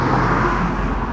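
A car passing close by on a road, a loud, steady low rumble of engine and tire noise that fills the whole short moment with no talk over it.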